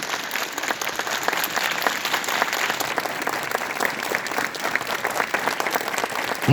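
Loud, dense applause from a large group of school students clapping together in a class competition at a morning assembly, a steady roar of hand claps lasting throughout without a break.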